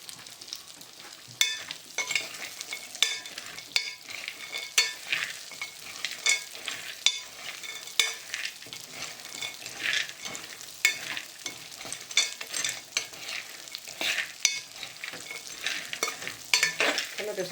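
Mango seeds roasting in ghee crackle and sizzle steadily while a spoon stirs them, scraping in irregular bursts close by and without any voices.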